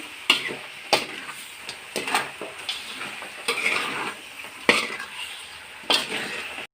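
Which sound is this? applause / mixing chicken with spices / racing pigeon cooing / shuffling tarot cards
mixing chicken with spices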